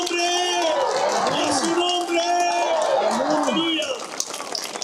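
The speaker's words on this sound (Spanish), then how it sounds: "Fuerte ese aplauso al Rey de Reyes." A church congregation claps steadily throughout, a dense rain-like patter with voices calling and singing loudly over it.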